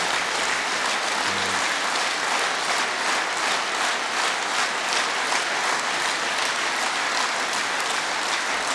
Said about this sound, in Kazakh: рахмат сіздерге мынау үшін қол шабуларды